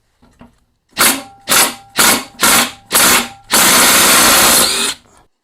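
Power tool spinning off a 9/16 bolt during an engine swap: five short bursts of whirring, each cutting off, then one longer sustained run, loud and close with no talk.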